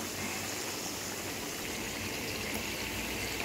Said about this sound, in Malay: Letak air sikit.